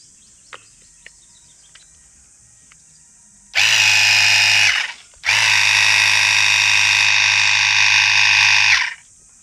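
A portable 24V water gun sprayer's motor whirs loudly in two bursts, about one second then nearly four seconds with a brief pause between, after a few faint clicks.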